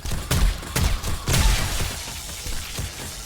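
A coil sniper turret fires during a blood moon zombie horde in 7 Days to Die: Darkness Falls, a few heavy, thumping shots in a loose rhythm with booming low tails, loud and close, with no talk.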